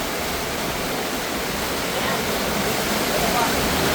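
Water current rushing through a fish trap (salandra) as a barrier is lifted, a dense, close, steady roar of flowing water that swells slightly toward the end.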